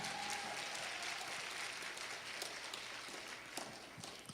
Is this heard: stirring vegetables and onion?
no